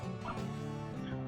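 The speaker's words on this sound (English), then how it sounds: "dog's barking at me" A dog barks at a restaurant in downtown Louisville, Kentucky, a few short close yips and whimpers rising over a steady low background hum.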